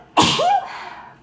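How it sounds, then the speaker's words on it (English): A single close, loud human sneeze bursts out sharply with a breathy explosive rush followed by a short voiced tail, then quiet. "gotta sneeze."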